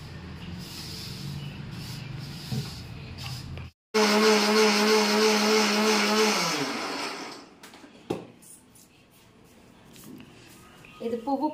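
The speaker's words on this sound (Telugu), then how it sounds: "ముందు పువ్వులు మిక్సీ పట్టుకోవాలండి." A kitchen mixer grinder grinds dried flowers into powder, its motor starting abruptly with a loud steady whine that winds down after a few seconds; quieter handling noises and brief talk surround it.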